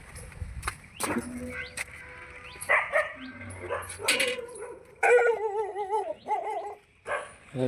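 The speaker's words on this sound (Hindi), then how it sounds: "कुत्तों ने मुझ पे भौंकना शुरू कर दिया।" Several dogs bark and yip in short, uneven bursts, some close and sharp, with whining between barks and faint voices in the background.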